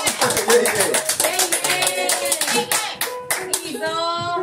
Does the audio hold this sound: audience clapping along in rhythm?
yes